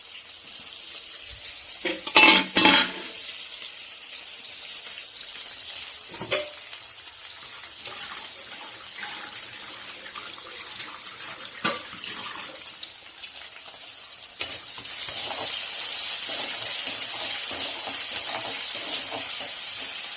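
Green chillies sautéing in hot oil in a pan for catfish curry, a faint steady sizzle with a few clattering knocks of utensils early on and a louder hiss toward the end.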